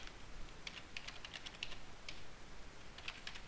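Computer keyboard keys tapped in short irregular bursts during text work in an animation program, crisp, close clicks over a faint steady background hiss with no talking.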